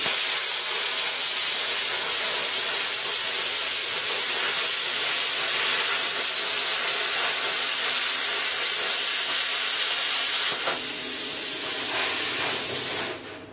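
A plasma cutter slices a straight line through metal, giving a loud, steady, close hiss that runs unbroken for about ten seconds, shifts briefly, then cuts off near the end; no one speaks.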